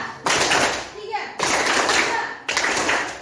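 Children in a classroom clap hands in counted patterns, three loud bursts of rapid clapping close by with short pauses between, and voices speaking throughout.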